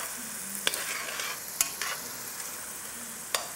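Onion frying in a pan gives a low, steady sizzle, with a few sharp utensil clicks and scrapes spread across the moment; no speech.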